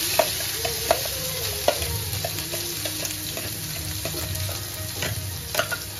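Homemade ground masala paste with chilli sizzles and spatters in hot oil in a home kitchen for paneer masala, a steady crackling fry with intermittent stirring clicks, close and continuous with no talk.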